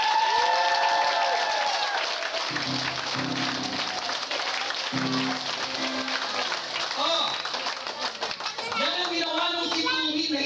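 A crowd claps and cheers loudly throughout, with dense broadband applause and voices mixed in.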